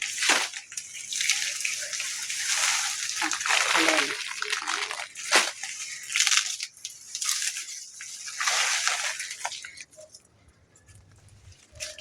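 Arrowroot tubers are pulled up out of wet soil, with close, loud bursts of crunching, tearing and sloshing that rise and fall in irregular pulls before easing off near the end.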